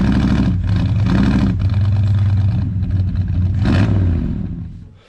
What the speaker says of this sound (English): Look at that motor, it's rocking the car.